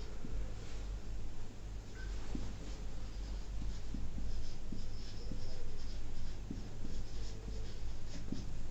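Marker or chalk scratching on a board during a sixth-grade maths lesson, a steady run of soft strokes and taps close by over a constant low hum.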